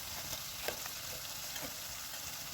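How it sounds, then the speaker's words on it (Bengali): Shrimp chops frying in hot oil until reddish-brown, a steady close hiss and crackle with brief louder pops, no voices. "লাল লাল করে ভাজা হচ্ছে এখানে"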